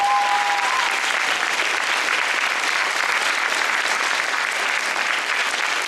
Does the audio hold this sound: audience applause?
yes